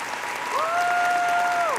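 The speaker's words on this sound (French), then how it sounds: "Une bonne main d'applaudissements pour nos ambassadeurs 2019 au WCS." Audience applause for Team Doll Damage at the Otakuthon 2019 WCS preliminaries, a steady dense clapping throughout, with a brief sustained tone sliding in over it partway through.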